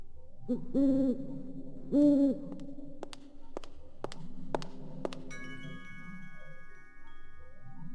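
An artificial owl in the video game Blade Runner gives two low hoots a second apart over a droning ambient hum, followed by sharp ticking clicks and a sustained tone.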